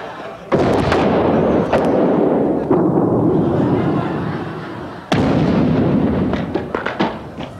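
Dynamite blasts out in a forest: two loud, sudden booms roughly four seconds apart, each rolling into a long rumbling decay, with sharp cracks and debris-like clatter trailing the second blast.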